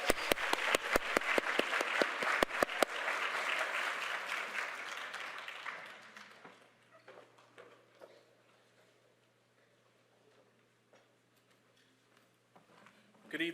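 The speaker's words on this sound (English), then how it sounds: "Let's give all of these doctoral candidates one round of applause." A graduation ceremony audience applauds doctoral candidates, with sharp individual claps up front swelling into a full wash of clapping that fades out after about six seconds, leaving faint room noise and a few stray sounds.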